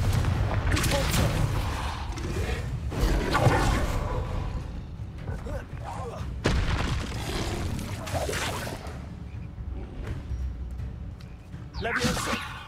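Fiery Confringo spell blasts in the Hogwarts Legacy video game, several booming bursts spread across a busy combat mix, with someone talking over much of it.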